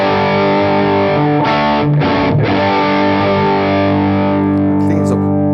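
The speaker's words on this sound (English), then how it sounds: "the key sort of sound from the 70s is basically the Vox with treble booster in front of it" Electric guitar through a Vox amp with a treble booster in front, going for a 1970s tone: sustained, heavily driven chords ringing out with brief breaks, loud and alone.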